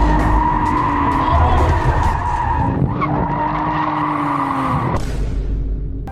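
A BMW E36 drift car skidding through a lap at a drift event, loud continuous tire squeal over a droning engine, the pitch wavering as the car slides, close and sustained for about six seconds.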